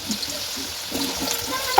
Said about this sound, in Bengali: এখন এটাতে ফুলকপি আর আলু দিয়ে দিচ্ছে, ভাজা হবে